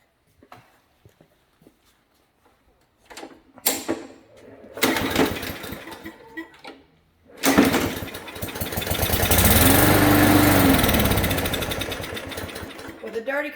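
A Briggs & Stratton 300 series small engine with a dirty carburetor is started with a pull cord after starting fluid goes into the carburetor. Soft knocks come first, then brief rasping pulls, then the engine catches into a loud, steady buzzing run, with voices talking.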